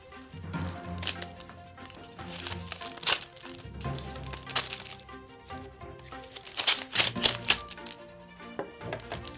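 A paper envelope holding a mailed letter is torn open by hand, giving a string of sharp crackles and rustling rips in bursts, close and fairly loud, with no talking.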